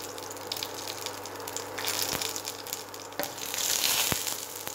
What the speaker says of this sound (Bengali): এইবার তেলের মধ্যে আমি দিয়ে দেব 2টো লবঙ্গ, একটা ছোট এলাচ আর সামান্য দারচিনি, আর দিয়ে দেব 1/2 টেবিল স্পুন সাদা জিরে।